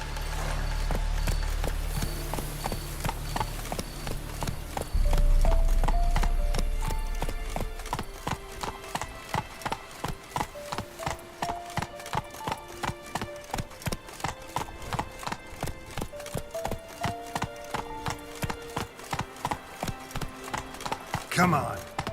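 A horse galloping in The Witcher 3: Wild Hunt, a fast, even clip-clop of hooves running steadily throughout, with music playing along and a deep rumble early on.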